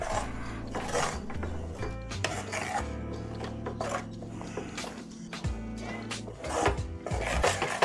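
Lumps in a grainy mohanthal mixture being broken up in a vessel off the heat, with continuous close rasping, scraping and rubbing of a utensil, scratchy and uneven, with no talking.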